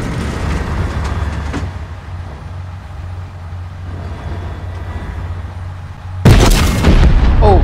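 A tank turret firing in Fortnite comes in as a sudden loud boom that cuts through a steady low engine rumble near the end, heard close with no talk over it.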